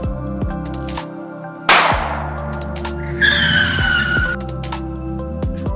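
A car skids while dodging, with two sharp tire squeals over a steady engine drone, the second longer and more drawn out.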